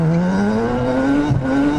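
A Mazda RX-3 race car's rotary engine screams loud and close with a rising, strongly tonal exhaust note as it accelerates on track, no voices.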